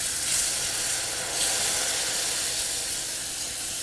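Chicken stock hitting a hot roux for roast chicken gravy, off the heat, gives a steady, close sizzle and steamy hiss that holds evenly for a few seconds, with no talking.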